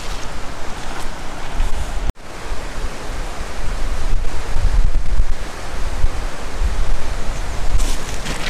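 A mountain river in the Kyrgyz mountains near Issyk-Ata rushes below as a constant loud broadband roar, mixed with wind buffeting the microphone, with a brief dropout early on.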